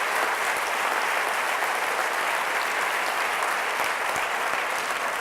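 A church congregation claps together during a Sunday service, dense sustained applause filling the room evenly and loudly for several seconds with no talk over it.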